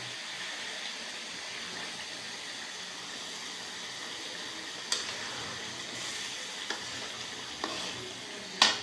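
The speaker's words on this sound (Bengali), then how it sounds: "রহিম ভাই, মাছ রান্না করতেছি" Shing fish (stinging catfish) cooking in a pan in a home kitchen: a steady, moderate sizzle of frying runs throughout, with a few brief clinks and scrapes toward the end.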